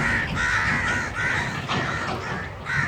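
A crow caws repeatedly in a crop field where fodder is being cut, its harsh calls close and clear in short rhythmic bursts over a faint outdoor background.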